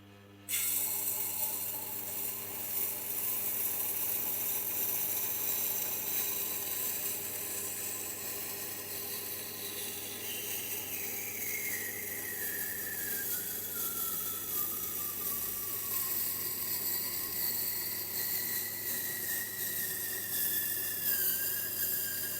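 A machete is sharpened on a Tormek SB250 sharpening setup, with a steady whirring grind and a high metallic scraping tone that rises and falls as the blade moves along the wheel, continuous and close, with no voices.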